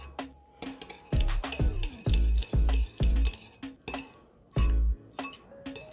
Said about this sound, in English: I'm gonna just mix that up a little bit, make sure it's all mixed in